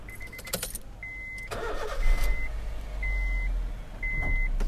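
A 2010 Honda City 1.5 S with a manual gearbox starts up nearby, the engine cranking and catching into a steady low idle, while a repeating electronic beep chimes at regular intervals.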